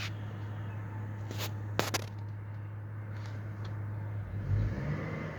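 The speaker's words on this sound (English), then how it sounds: "you guys heard that when I revved it up a little bit" A 2004 Chevrolet Trailblazer LS engine idles steadily with a brief rev that swells and falls back, sounding uneven as it hesitates, heard close under the open hood with a couple of sharp clicks or knocks early on.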